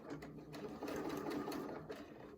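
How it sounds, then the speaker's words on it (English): Sewing machine stitching a quilt block for a square-in-a-square pattern, a steady mechanical whir running for a couple of seconds at moderate, fairly quiet level. "I'm used to sewing on my other machine."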